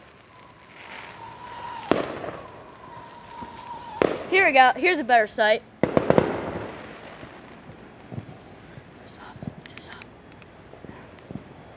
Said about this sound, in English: All those amazing fireworks